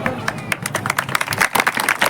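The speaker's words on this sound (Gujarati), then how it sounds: "તાળીઓ પાડો તાળીઓ" Rapid, uneven clapping from an audience at a live Rama Mandal religious music gathering in Laskana, Surat, with sharp hand claps bunched together close by and a faint murmur of voices underneath.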